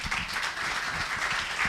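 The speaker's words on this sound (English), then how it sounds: "Please keep the applause going for Jimmy Obobine, head of Agusto Consulting" Audience applause at an economic roundtable, steady dense clapping from a crowd, sustained and fairly loud throughout with no talk over it.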